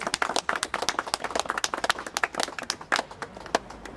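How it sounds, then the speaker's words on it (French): A small group applauds outdoors during a guided neighbourhood walk, uneven claps spreading through the group for a few seconds, fairly close and at moderate volume, with no talk over them. "ça mérite un applaudissement"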